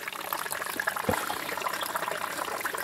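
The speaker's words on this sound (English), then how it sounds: "It's still siphoning, so it's fallen below the level it was." Water draining through a bulkhead fitting in a solar-powered off-grid aquaponics system as a siphon keeps running, a steady close trickling gush with brief gurgles.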